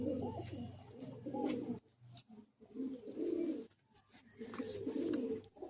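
Several Madrasi high-flying pigeons coo nearby at a loft in low, throaty, bubbling phrases, with brief quiet gaps between the bursts.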